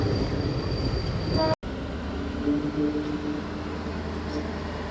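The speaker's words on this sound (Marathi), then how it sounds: "पलीकडे पुणे दौंड डेमो ट्रेन चालली आहे." A Pune-Daund DEMU train passes close by with a steady rolling rumble and sustained horn-like tones, broken by a brief dropout, and then continues droning along the track.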